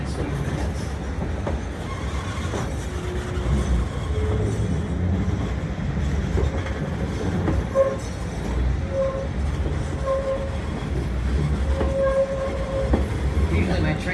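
A Santa Cruz Big Trees & Pacific tourist train rumbles steadily along its rails for the whole stretch, with rhythmic clicking, occasional squeals and brief horn-like tones over a constant low roar.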